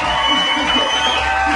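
Live concert crowd at Nakodar cheering for a singer as he comes onstage, a loud, dense roar of shouts and whoops with ringing sustained tones over it.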